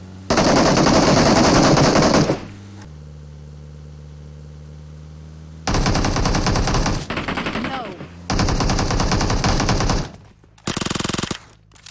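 Bursts of automatic gunfire in the mobile game PUBG Mobile come in loud rapid volleys separated by quieter stretches of idling engine hum, with a final short burst near the end.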